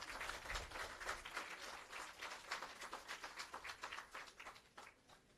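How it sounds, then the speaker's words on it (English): A crowd applauds at a social housing handover ceremony on Allamanda Avenue, a steady patter of many hands clapping for several seconds before thinning toward the end. "Please give them a round of applause."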